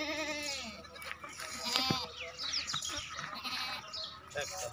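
Goats bleat repeatedly at a goat farm, a nanny with two kids nearby, their wavering cries rising and falling close up while someone talks over them.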